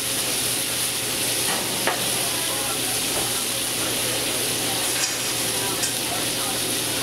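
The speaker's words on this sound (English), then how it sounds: "I hit it with an apple cider." A pork chop sizzles loudly in a hot pan as apple cider is added, producing a constant, close, bright hiss with a few faint utensil clicks.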